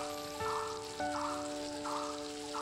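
Tomato, onion and green chillies sizzle steadily in a pan with salt and turmeric, a continuous close crackling fry with slight swells as the mixture is stirred, no talking.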